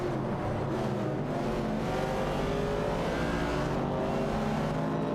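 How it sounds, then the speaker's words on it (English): Video game race between a 1969 Chevrolet Camaro and a Dodge Challenger, with dense, continuous engine roar holding steady throughout and no voices. "Komodo 3K is driving a Chevrolet Camaro 69, while Super Lacroix is behind the wheel of a Dodge Challenger."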